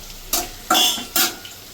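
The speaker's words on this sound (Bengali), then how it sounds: "বন্ধু, তোমার আলুটা ভালো করে ভাজা হয়ে গেছে। এবার আমি দিয়ে দেবো মশলা।" Potatoes fry in a pan with spices, three sharp bursts of stirring and sizzling rising over a quiet background, each fading after a moment, close and fairly loud.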